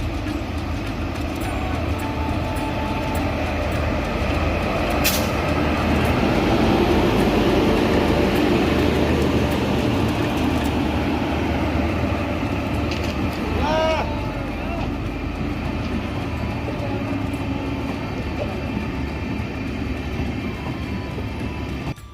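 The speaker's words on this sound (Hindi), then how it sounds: "वो ट्रेन आ चुकी है। ये है साबरमती हरिद्वार अमृत भारत स्पेशल।" The Sabarmati–Haridwar Amrit Bharat Special train pulls into Deoband junction to switch onto the new Deoband–Roorkee line, a continuous loud rumble of rolling wagons with wheel clatter and a brief screech, voices talking over it.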